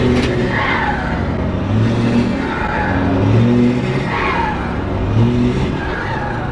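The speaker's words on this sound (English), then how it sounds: "Listen, here's the blow-off valve." A truck's blow-off valve venting in repeated loud whooshing bursts between throttle pulls, its exhaust echoing back off a nearby wall, close and dominant with no talking.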